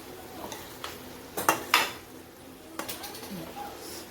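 Tondli (ivy gourd) and potato sabzi being stirred with peanut powder in a pan, with a few sharp spoon clinks against the metal and soft scraping over faint background hiss, fairly quiet overall.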